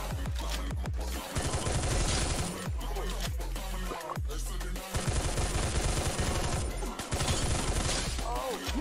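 Rapid automatic gunfire in a shooting video game, loud sustained bursts of fire broken by short pauses, with a voice talking over it.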